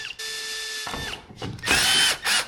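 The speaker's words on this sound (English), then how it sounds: "Drilling in my cab." A power drill whines steadily, then after a pause runs in two loud bursts as it bores into the metal cab of a Chevrolet Squarebody Suburban, close by.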